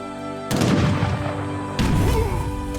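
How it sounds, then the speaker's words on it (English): Cannon fire in the Age of Empires strategy game arrives as two heavy booming blasts a little over a second apart, each followed by a rumbling battle-noise tail, against a steady musical background. "The game even does a great audio thing where we can hear cannons in the distance to know something's"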